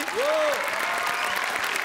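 A studio audience on the Marathi TV comedy show Chala Hawa Yeu Dya breaks into loud, sustained applause. A brief rising-and-falling whistle-like tone cuts through at the start.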